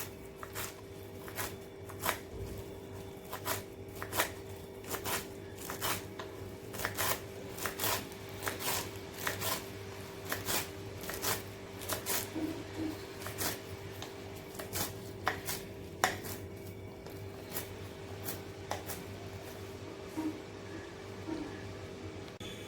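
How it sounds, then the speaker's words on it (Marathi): A knife finely chopping coriander on a board, with rapid, steady taps repeating throughout, close and crisp over a low background hum. "आता अशाच प्रकारे बाकी जे उरलेली आहे कोथिंबीर ती सुद्धा मी बारीक चिरून घेणार आहे."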